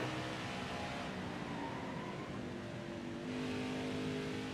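A NASCAR truck in the racing game NASCAR Heat 5 drones down the front stretch on a qualifying lap, its engine holding a steady, even roar with a slight rise in pitch near the end, heard alone without talk.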